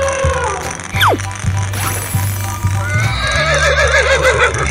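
A horse whinnies with a sharp rising squeal and later a long wavering neigh, heard over rhythmic clip-clop and mechanical clatter.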